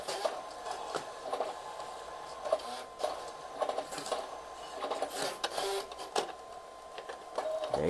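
Printer printing a photo sent from an iPad, a quiet mechanical feed with whirring and repeated clicks and clunks as the page moves through, heard fairly close in a calm room.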